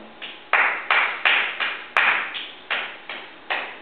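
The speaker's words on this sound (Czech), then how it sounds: "Když budeš chtít, tak zatleskám." Hand clapping, about nine distinct claps in a slightly uneven rhythm, close and fairly loud, with no talking.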